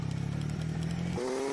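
A motorcycle engine hums and pulses close by while riding a badly damaged road in Wiwilí, Nueva Segovia, its tone stepping up in pitch as the rider shifts or revs, steady and loud with no talk.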